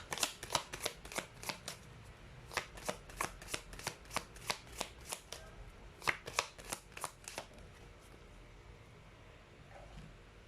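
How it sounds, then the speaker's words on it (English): Tarot cards are riffle-shuffled close by in a quick run of crisp, regular flutters, pausing briefly before another burst, then fading to quiet handling near the end. "let's pull up another card here."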